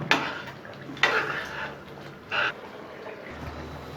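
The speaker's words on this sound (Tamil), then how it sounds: "சேர்த்துட்டு நல்லா இதை கலந்து விட்டுருங்க." Egg drumstick curry being stirred in a pot, with a few close metallic scrapes and clinks of a spoon against the pot and a brief soft rustle between them.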